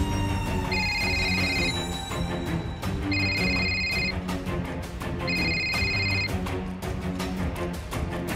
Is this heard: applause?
no